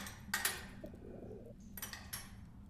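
Pigeons cooing in the Ad Infinitum video game, soft low coos at moderate distance, broken by two bursts of brighter clattering noise.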